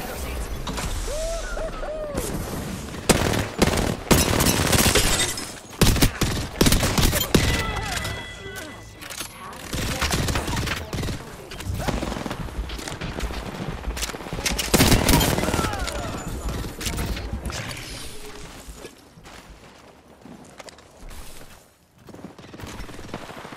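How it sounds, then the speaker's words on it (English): Rapid bursts of Nemesis rifle fire in Apex Legends team deathmatch, loud clattering volleys and mechanical reload clicks over a chaotic battle din, with someone talking at times. "I think everybody's using this Nemesis rifle"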